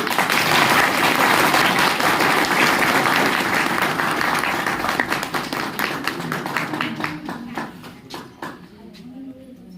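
An audience at a meeting gives loud, dense applause that starts strong, then thins into scattered individual claps and fades by the end.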